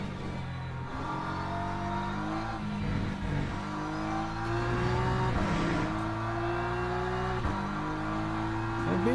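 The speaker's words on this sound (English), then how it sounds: "The Beamer sounds pretty good." A BMW race car in the racing sim Le Mans Ultimate, its engine droning steadily with rising revs and gear changes, continuous and moderately loud from start to finish with no talk.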